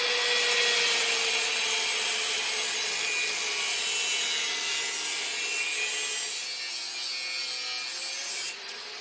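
Power saw cutting along a scribed line on a Volvo Penta input shaft socket, a continuous loud grinding rasp held close up that eases slightly near the end.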